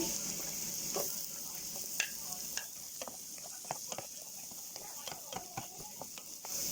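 Garlic and onion sizzling in butter in a pan for potato lasagna, a soft continuous sizzle broken by repeated clicks and scrapes of a spatula stirring, fairly quiet and close.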